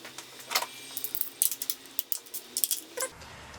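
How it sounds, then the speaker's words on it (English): Socket wrench unbolting ignition coil pack bolts on a 2002 Honda Civic Si EP3, giving a loose series of light, close metallic ratchet clicks and taps with short pauses between. "I'm going to unbolt all 4 of them at the same time."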